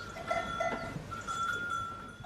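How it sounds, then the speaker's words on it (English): Goats and lambs penned aboard a boat give a few short, faint bleats, with a thin, bell-like tone drifting underneath. The whole burst is quiet and brief. "Lambs and a few chooks in here. Goats."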